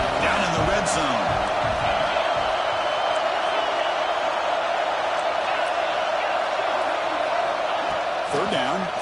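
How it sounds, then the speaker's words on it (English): A stadium crowd in a college football video game roars in a steady, loud, continuous wash of cheering, with commentary spoken over it. "And the crowd coming to life here, trying to help this defense down in the red zone."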